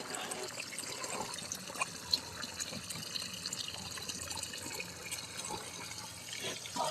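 Water trickles continuously from a small water fountain by a chicken's cage, a faint, even flow with scattered soft knocks and clicks.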